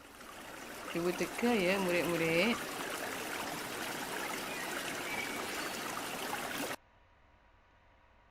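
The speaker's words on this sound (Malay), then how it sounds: "Ya, itu adalah bunyi air." Steady rushing flow of water, like a stream or trickle, runs continuously under a brief child-like voice near the start, then cuts off abruptly to near silence.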